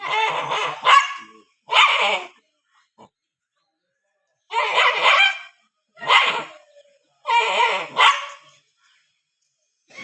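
A rabid dog in Kozhikode barks loudly and close in short bursts, single and double woofs separated by silent pauses.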